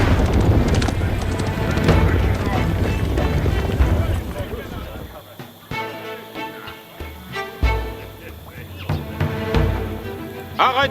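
Horse hooves clip-clopping with a whinny in the Age of Empires 4 Normandy campaign, under continuous game music and battle ambience, with voices speaking over it.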